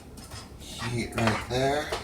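Watermelon salsa ingredients with onion pieces are stirred in a pan, producing a spoon clattering and scraping against the metal while a person talks over it.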